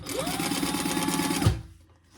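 A Bernina sewing machine stitches steadily in a fast, even run of needle strokes for about a second and a half, then stops abruptly, leaving a quiet tail.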